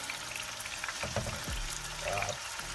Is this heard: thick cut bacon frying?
yes